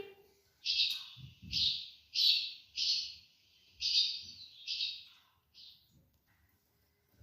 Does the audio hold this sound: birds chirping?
yes